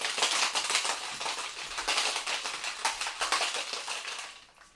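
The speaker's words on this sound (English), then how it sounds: "So into the shaker, we'll put a couple of cubes of ice." Ice cubes rattle hard inside a cocktail shaker while a Cosmopolitan is mixed, a dense, fast, steady clatter that carries on for several seconds and then tapers off.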